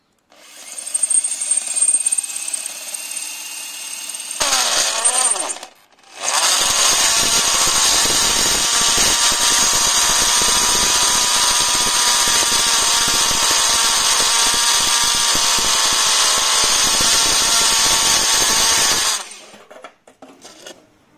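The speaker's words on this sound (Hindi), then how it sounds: "जब मैं इसके ऊपर थोड़ा प्रेशर देता हूँ तो ये हैमर में कन्वर्ट हो जाती है" A Cheston 13mm rotary impact drill runs in hammer mode, a loud, steady, high-pitched whine with rapid rattling impacts, drilling continuously for over ten seconds after a brief earlier burst, with a short pause between runs.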